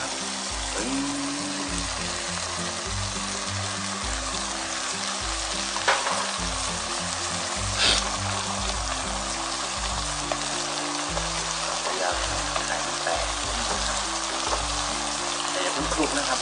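An egg fries in a hot pan for chicken sausage fried rice, a dense, even sizzle close by that holds steady the whole time, with a few light clinks and scrapes and a faint low hum beneath.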